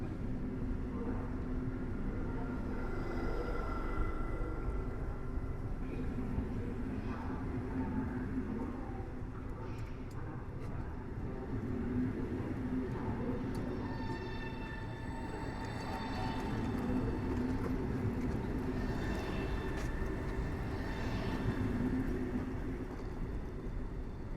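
An ED250 electric train runs past at Warszawa Zachodnia station in Poland with a steady rumbling roar and some higher whine that holds level throughout, and someone talks in Polish over it.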